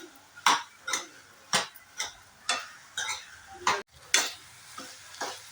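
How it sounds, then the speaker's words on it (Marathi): Fried soya chunks being stirred into sauce in a pan for soya chilli, with a regular rhythm of distinct scraping strokes about twice a second over a light sizzle, close and clear. "आता फक्त हे मिक्स करायचं आहे ह्या सॉसमध्ये"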